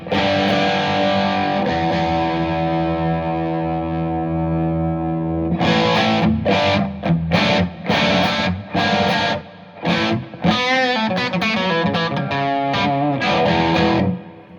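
An electric guitar plays through the crunch channel of a Boss Katana Artist MKII amp: a long sustained chord rings out, then choppy, punchy strummed chords and riffs follow.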